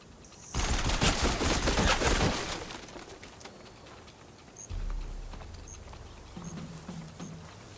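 Gunfire in the Horizon Forbidden West video game, a loud dense fusillade of rapid shots for about two seconds, then quieter scattered game sounds and faint chirps.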